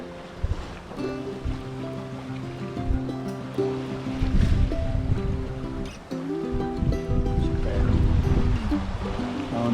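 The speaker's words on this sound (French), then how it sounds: "Il y a un bon petit coup de vent là, c'est pas mal." Strong wind rushing over open sea while sailing, with waves and spray surging throughout and loud gusty buffeting, no voices.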